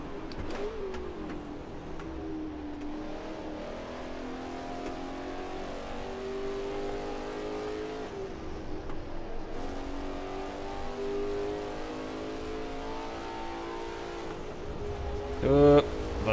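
Race car engine in the Assetto Corsa racing game, a steady mid-pitched drone with rising and falling revs through the run, heard under someone talking.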